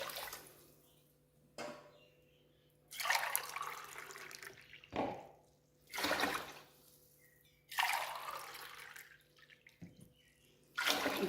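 Water pours into a cooking pot for chana pulao in several separate bursts, each splashing and gurgling for about a second, with quiet pauses between the pours.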